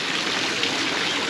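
An ornamental fountain in a Nuremberg metro station splashes with a steady, close hiss of falling water, broad and unbroken, with no voices.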